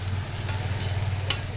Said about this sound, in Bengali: এই যে পেঁয়াজ ভাজবো।